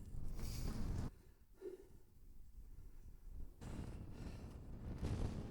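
Wind gusts buffet the microphone on Ben Bhraggie hill in Sutherland, coming in strong rushing bursts at the start and again toward the end, with a quieter lull in between.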